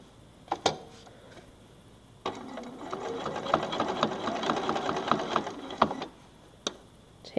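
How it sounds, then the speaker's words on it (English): Sewing machine stitching binding along the edge of a quilt, a steady close mechanical whir running for several seconds after a few isolated clicks, with sharp taps near the end. "I'm gonna bring this back under my presser foot and I'm gonna start right at the edge there and sew along this side of the quilt"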